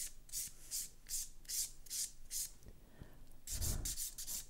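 An acrylic gel hybrid nail being filed with a nail file, close rhythmic rasping strokes in a steady back-and-forth pattern, ending in a faster burst of strokes.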